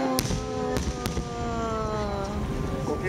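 Fireworks at the PL Art of Fireworks festival in 2015: a few sharp bursts and crackles sound over a busy crowd and tonal background, fairly loud and distant.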